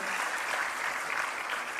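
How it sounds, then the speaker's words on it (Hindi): Steady, dense applause from a crowd at an award ceremony for meritorious students, continuous and fairly loud throughout with no pauses. "तालियों में जोश होना चाहिए।"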